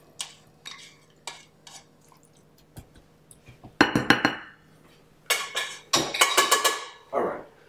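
Metal utensils clink and scrape against dishes while sweet potato hash is plated, starting with sparse light taps and building into clustered bursts of bright, close clinking.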